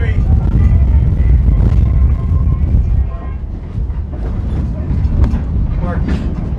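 A tourist train at Strasburg rolls back into the station on a windy day, a heavy low rumble of the railcars with some wheel noise and faint squeals, while a voice talks over it.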